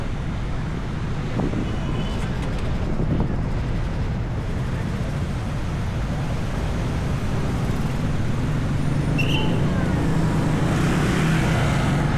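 Road traffic in Davao City near the boulevard toward Matina forms a loud, continuous roadside rumble, with heavy wind buffeting the microphone and no breaks.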